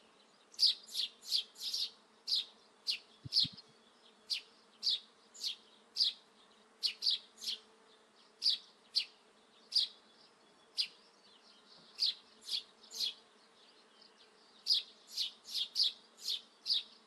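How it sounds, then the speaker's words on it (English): Video game ambience of bees buzzing at a distance and birds chirping, with short high chirps recurring in an irregular rhythm over a quiet low hum. "eventually I did like these birds chirping and the sound of bees at distance"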